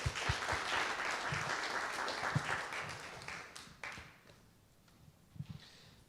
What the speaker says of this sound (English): Just give another round of applause.